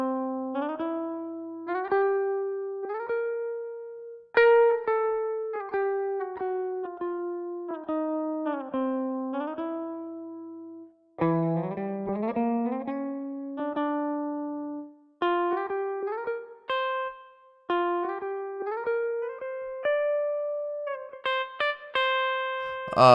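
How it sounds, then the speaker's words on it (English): Melodic guitar-like notes that glide smoothly up into each pitch, then get struck again, in a steady phrase with no talking. "the transition is actually a finger slide up the fretboard, and then the note gets reattacked"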